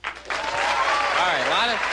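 A comedy-club audience in Las Vegas breaks into applause and cheering, a dense crowd wash that swells after a brief start, with voices calling out over it.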